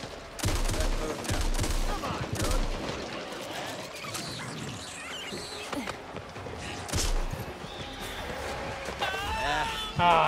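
Friendly gunfire from teammates in the Back 4 Blood co-op shooter, rapid automatic bursts and crashing shots in a loud, busy firefight, with people talking over the din.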